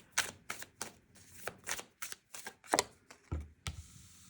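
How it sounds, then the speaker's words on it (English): Tarot cards are pulled one after another from a deck, a close series of about a dozen crisp slaps and snaps at an uneven pace with no voices. "I'm going to keep pulling some cards here."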